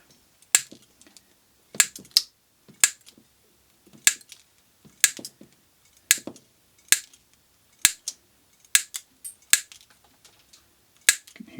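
Forged flush cutting pliers snipping iron wire in a shop, a series of about a dozen sharp, crisp snaps spaced irregularly about a second apart, close and clear with no talking.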